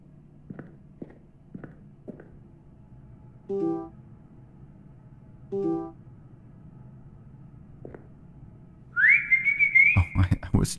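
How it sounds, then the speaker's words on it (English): A dog whistle blown in the horror game Lost in Vivo gives a single bright, sustained tone near the end. It follows a few scattered footsteps and knocks in a quiet, hollow ambience. "Forgot that's a dog whistle."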